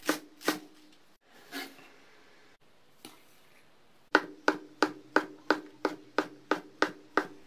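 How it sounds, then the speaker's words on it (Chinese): Knife chopping green onions on a cutting board, first a few scattered cuts, then a steady run of about a dozen crisp, evenly spaced chops, close and fairly quiet. "下面再来切点葱花"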